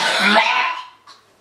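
A single harsh, throaty cough up close, tapering off, followed by a brief faint breathy sound.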